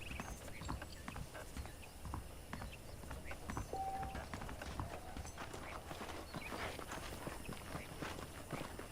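Saddled horses walk in Red Dead Redemption, producing a steady, fairly quiet clip-clop of hooves that runs continuously for several seconds with no talk over it.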